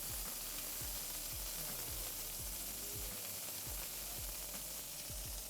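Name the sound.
steak searing in a pan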